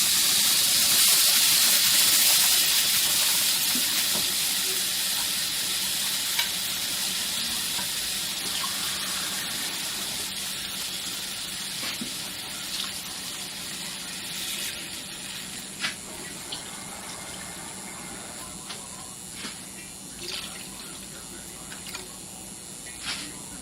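About three cups of water hitting a hot pan of rice and tomato sauce hiss and sizzle loudly at first, then settle into a steady simmering bubble with scattered crackles and pops.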